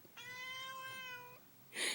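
A cat gives one clear, drawn-out meow lasting over a second, close and fairly loud, followed by a short burst of noise.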